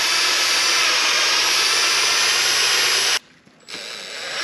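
A left-handed drill bit grinds into a cracked 1939 Caterpillar D4 engine block, a loud, steady whirring cut that drops to near silence about three seconds in before the drill spins up again.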